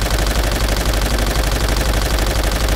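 Machine guns firing in Call of Duty: World at War: dense, continuous rapid-fire rattling bursts, loud and sustained throughout.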